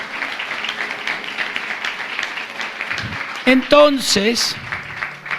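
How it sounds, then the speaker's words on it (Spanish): Church congregation applauding during a spiritual warfare sermon, a steady wash of clapping under a loud nearby voice speaking over it. "Vamos, denle un aplauso a Él."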